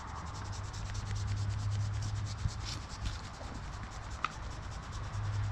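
Hand scratching vigorously through a shedding horse's coat, a continuous close brushing rub with a low steady hum in the background and a couple of small knocks.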